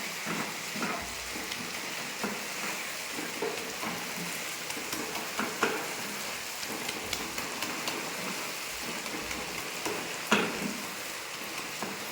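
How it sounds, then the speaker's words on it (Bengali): Taro flowers simmering in a tangy tamarind and spice curry are stirred in a pot, giving a steady close sizzle and bubbling with soft scraping and clinks scattered throughout, with no talking. "ঢাকনাটা তুলে আবার একটু নেড়ে চেড়ে নেব।"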